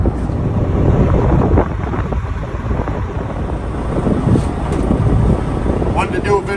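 Strong wind buffets a lobster fishing boat at sea, a steady loud rumble and roar filling the whole stretch with gusty microphone noise.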